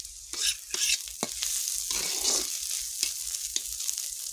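Fish oil frying in a pan with mustard paste, onion, chopped green chilli, salt and turmeric, giving a steady sizzle broken by sharp stirring scrapes and clicks.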